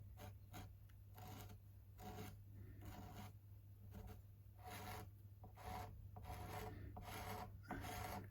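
A file scrapes back and forth over the fret ends on the fingerboard of a cheap learner Strat-style guitar, a steady rasping rhythm of repeated strokes, close and quiet, with no talking.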